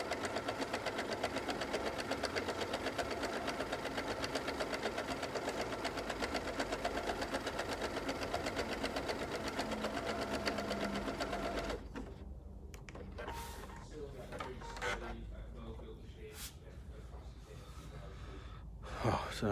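A Pfaff Quilt Ambition 630 sewing machine stitching through quilt layers runs in a steady, fast whir for about twelve seconds, then stops, leaving quieter handling sounds and brief clicks as a person talks faintly.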